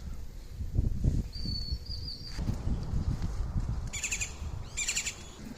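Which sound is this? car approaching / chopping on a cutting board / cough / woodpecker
woodpecker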